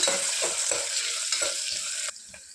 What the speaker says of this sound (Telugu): సన్నగా కట్ చేసి పెట్టుకున్న మీడియం సైజ్ ఆనియన్ వేసుకోవాలి ఒక టూ మినిట్స్ వరకు ఫ్రై చేసుకోవాలి